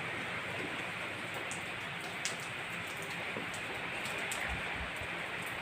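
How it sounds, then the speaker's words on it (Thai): Rain falls steadily at Bang Kha in Thailand, a dense even hiss with scattered drip ticks throughout, fairly faint and without voices. "ฝนตกแล้วนะคะ"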